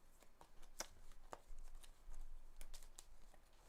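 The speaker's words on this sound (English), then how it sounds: "Let's shuffle it actually with the cards." A deck of game cards for a 7th Continent board game playthrough is shuffled by hand, with repeated crisp riffling and flicking bursts up close over a quiet room.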